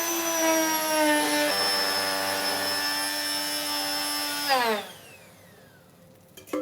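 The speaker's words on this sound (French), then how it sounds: "le fait de mixer, on va tout simplement lier la sauce avec l'ail noir" A blender whirs loudly and steadily as it purees a black garlic sauce for a sea bass dish, its motor pitch holding then shifting before it winds down and cuts off near the end.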